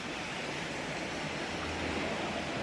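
Small streams of water run through a park in Kamianets-Podilskyi, giving a steady, even rush of flowing water with no voices over it.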